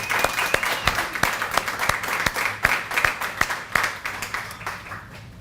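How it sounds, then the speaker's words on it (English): An audience at a 2022 startup prize winner announcement applauds steadily, with sharp individual claps standing out above the continuous clapping for the whole stretch. "give an applause for the businesses who made this far and showed up and did this"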